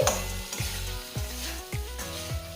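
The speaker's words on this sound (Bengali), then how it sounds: "এবারে এতে দিয়ে দিচ্ছি ভেজে রাখা আলু আর দিচ্ছি ভেজে রাখা করলা এবারে সব কিছু ভালোভাবে মিশিয়ে নিচ্ছি" Fried potato and bitter gourd being stirred in a pan for a spicy vegetarian curry, with a steady sizzle and rhythmic utensil scrapes repeating about every half second, close and moderately loud, no talk.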